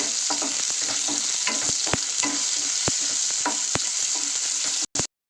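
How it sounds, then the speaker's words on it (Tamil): Onion and tomato sautéing in oil in a pan for a Kerala style fish curry, with a loud continuous sizzle and a regular rhythm of stirring scrapes, heard close before cutting off abruptly. "சேர்த்துட்டு எண்ணெயில நல்லா வதக்கி விட்டுக்கோங்க."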